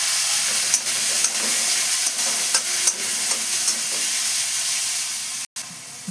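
Chopped onion and tomato fry loudly in a pan, a constant close sizzle and hiss broken by regular scrapes of stirring, with no voices.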